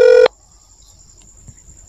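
A phone keypad dialing a bank helpline gives one short, loud touch-tone beep, followed by near silence with faint handling noise.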